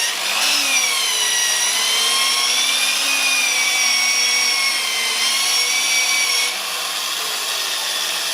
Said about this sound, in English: The only way to get rid of that is to power sand it away.